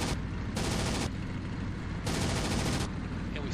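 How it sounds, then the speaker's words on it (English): Guns firing from an Arado 196 floatplane in the IL-2 1946 flight game come in two loud, dense bursts of rapid machine-gun fire with a steady engine roar between them. "So we're gonna take it upon ourselves to go in with guns."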